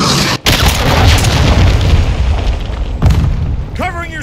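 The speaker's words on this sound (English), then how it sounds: "Friendly cruise missile approaching target." A cruise missile strike in Call of Duty Modern Warfare 2, heard as a heavy rumbling blast that rolls on for several seconds, loud and close, with a brief voice at the end.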